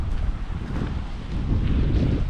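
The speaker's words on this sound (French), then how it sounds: "Avec le vent qui se lève toujours" Steady wind roaring and buffeting a microphone at the edge of Utila island in Honduras, continuous and close, with a constant low rumble and no speech.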